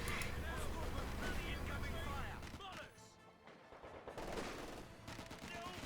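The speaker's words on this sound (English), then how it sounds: "G42 in the center of the map, firing" Gunfire from a G42 machine gun positioned in the center of a Company of Heroes 2 match map, dense bursts and shots over a busy battle soundscape, with a commentator talking throughout.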